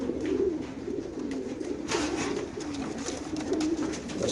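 Racing pigeons, a pair, coo steadily and close by, their low throaty rolls overlapping with no pause.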